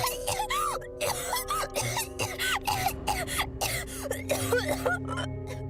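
A boy coughs and chokes in an audio drama, a run of harsh, close coughs and strained gasping rasps in rapid succession over a faint musical drone.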